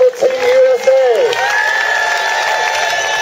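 Spectators at the 2014 F18 catamaran World Championship cheer and applaud the parade of flags from competing nations, a loud close-up roar of crowd noise with a whistle or high shout gliding over it.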